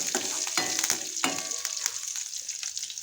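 Crushed garlic and curry leaves fry in hot oil for a simple garlic lemon rice, giving a steady bright sizzle with a few crackling pops and stirring scrapes close by.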